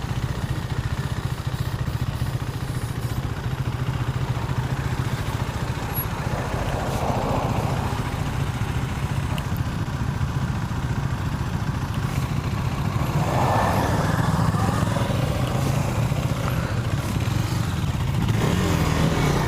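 A 2017 KTM 390 Duke's single-cylinder engine drones continuously while riding, close and loud with wind rush, its pitch swelling and easing a couple of times as the throttle changes.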